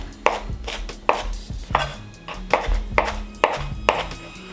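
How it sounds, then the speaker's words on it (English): A knife rough-chops a bunch of washed cilantro on a cutting board, about nine crisp, evenly spaced chops ringing out close and clear with no talking. "we're just gonna give it a rough chop"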